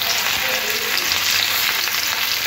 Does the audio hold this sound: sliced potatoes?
yes